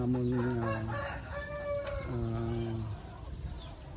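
Layer hens cluck and a rooster crows in a poultry house on a farm converted from rice paddy, with a drawn-out crow followed by another close by over a busy background of clucking.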